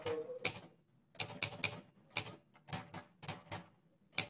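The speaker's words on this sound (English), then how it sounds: "Yes, I'm typing it right now." Keystrokes on a computer keyboard clatter in short irregular bursts of several quick clicks, separated by brief pauses, close and fairly quiet with no talking.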